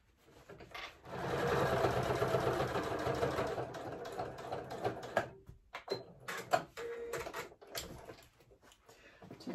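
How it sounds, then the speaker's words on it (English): Sewing machine running steadily as it stitches a 1 cm seam allowance line along the edge of a child's bunny bag, a continuous whirring burst for several seconds that stops, followed by quieter handling clicks and rustles. "I'm going to line up this edge and stitch a 1 centimeter seam allowance line just to hold all of that in place."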